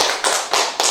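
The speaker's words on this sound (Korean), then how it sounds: "박수를 한번 주고 그것만" Brief burst of hand clapping from a small group at a church leaders' committee meeting, three dense rounds of claps close by, no voices.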